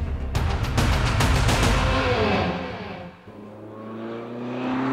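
A Nissan Altima drives through the corkscrew at Laguna Seca Racetrack in California, engine revving hard and then easing as the car passes, and a steady drone returns toward the end.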